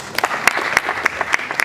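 An audience at a lecture applauds, a steady patter of many hands clapping close by with a few sharper claps standing out, and no voices over it.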